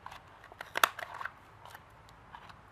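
Scissors snip the corners of a paper envelope in a few quick, close cuts, with one sharp loud snip followed by smaller crunchy clips.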